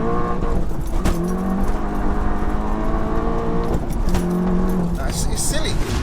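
A stage 2 Seat Leon Cupra with about 402 bhp pulls hard after a gear change, its engine note climbing loud and close, dipping briefly at each shift before rising again, with a voice speaking over it.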